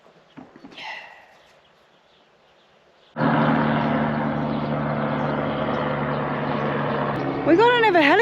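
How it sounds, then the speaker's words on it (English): A helicopter passes overhead at a campsite: after a few quiet seconds with faint sounds, a loud, sudden rotor roar sets in and holds steady, with a brief warbling tone near the end. "We got another helicopter flying over"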